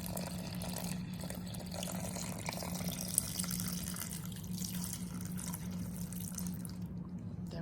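Water pours in a steady, soft stream into a glass dish holding turkey patties, splashing against the glass rather than onto the meat. It runs continuously for several seconds at a low level with no talk.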